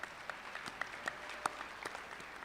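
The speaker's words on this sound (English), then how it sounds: "let's give her a round of applause as well" Scattered audience applause at a university commencement ceremony, sparse and fairly faint, with individual sharp claps standing out against a soft hall ambience.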